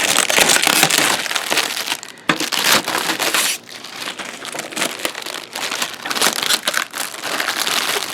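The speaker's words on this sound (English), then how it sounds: "We're going to take the plastic off. It looks so pretty, but we're going to take it off. It's just packing plastic." Packing plastic crinkles and crackles as it is peeled off a new Toro 60V Flex-Force cordless 21-inch mower. The dense rustling runs almost continuously, with brief dips in between pulls.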